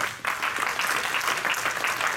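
Congregation applause during a church wedding ceremony in Montgomery, Alabama, a loud, dense burst of many clapping hands that starts abruptly and holds steady throughout.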